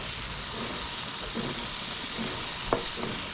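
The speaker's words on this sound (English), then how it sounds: "mushroom has been sauteing for a little bit" Mushrooms sauté in a pan with a soft, continuous sizzle and hiss, broken by a few light scrapes and taps of a utensil stirring, close and fairly quiet.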